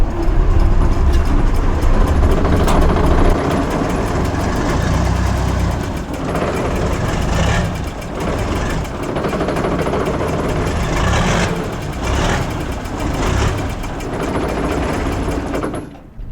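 A large missile carrier truck's diesel engine cranks and runs with a loud, rough, rattling clatter that rises and falls, close by, with people speaking in the background.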